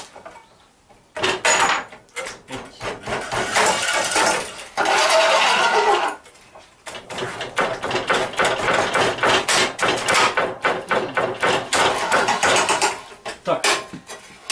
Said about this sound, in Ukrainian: Те ж саме, я ріжу, я відчуваю, як емаль під ролик попадає.